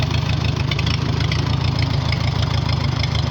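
A 1944 Farmall H tractor engine runs steadily nearby, with a low, even, chugging idle and a slight knocking pulse throughout and no talk.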